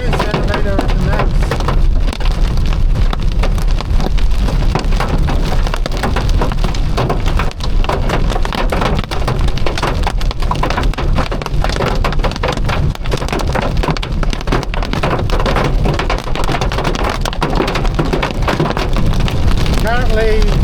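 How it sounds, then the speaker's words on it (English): Heavy rain and hail up to 2 cm drumming loudly and continuously on a vehicle during a severe storm in the Southern Tablelands, a dense roar with sharp impacts and a voice talking underneath. "Not big hail, 2 centimetre at the max."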